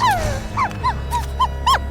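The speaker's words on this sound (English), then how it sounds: "the barks grow louder and more desperate" A frightened dog, surrounded by closing-in undead, gives a rapid series of high, yelping barks and whimpers with falling pitch, loud and close over a low rumbling background.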